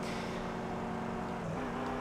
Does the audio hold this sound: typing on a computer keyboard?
no